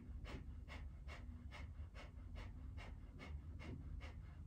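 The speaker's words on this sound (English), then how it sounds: "Keep your lips sealed. Inhale through the nose. Exhale through the nose." Rapid, rhythmic pumping breaths through the nose during a kundalini yoga breathing exercise, about ten sharp even bursts in a steady quick pulse, close and fairly quiet over a low background hum.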